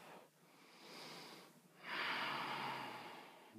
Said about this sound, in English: Take a nice big breath.